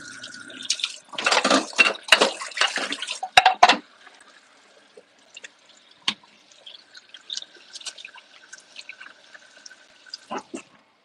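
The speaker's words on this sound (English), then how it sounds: "I need to wash my hands real quickly." Hands washed under a running kitchen tap, a loud splashing gush of water for a few seconds, then quieter drips and small splashes trailing off.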